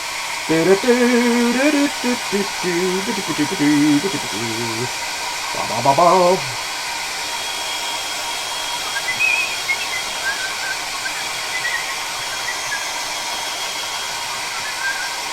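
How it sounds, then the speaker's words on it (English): A hairdryer drying paint on a Warhammer miniature, a steady loud whooshing hiss that runs throughout, with a warbling tonal motor whine in the first several seconds. "I'm going to get the hairdryer out again"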